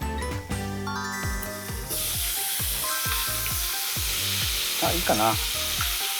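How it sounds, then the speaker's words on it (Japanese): Chicken skin searing in a covered frying pan over medium heat for a Christmas chicken cream macaroni, with a dense, steady sizzle and a string of rhythmic tapping knocks; someone speaks briefly near the end. "とにかく皮目に焼き目をつけることが大事ですね。"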